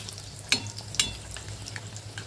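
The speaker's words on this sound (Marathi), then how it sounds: "तर वरून असं आपण तेल सोडूया जेणेकरून ते छान फुगेल" Vada frying in hot oil crackles steadily while oil is spooned over it, with a couple of sharper splashes standing out above the bubbling sizzle.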